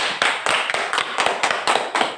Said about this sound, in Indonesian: Tepuk tangan untuk Gratio.